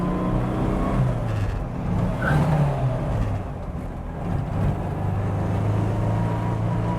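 A hot-rodded 1956 Porsche 356 Speedster drives with its engine droning loud and close from the cabin, the pitch dipping and rising as it shifts up through the gears.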